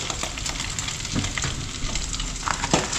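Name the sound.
ugali boiling in a pot in a kitchen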